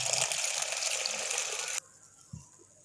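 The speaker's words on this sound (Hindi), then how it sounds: "इसको तकरीबन 2 गिलास पानी के अंदर भिगो के हम रखेंगे" Water gushes steadily into a bowl of chana dal to soak it, a loud continuous pouring splash that cuts off suddenly, followed by a faint clink.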